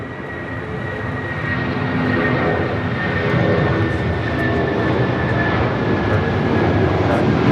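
A United jet in retro Continental livery lands on the south side at LAX, a loud broadband engine roar that swells slightly and holds steady, with a voice speaking underneath.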